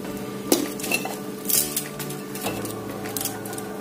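Fish pieces are put into a metal cooking pot while a pistachio (pumpkin seed) stew is being made, giving several close, loud clinks and knocks of pot and utensils, with no talking.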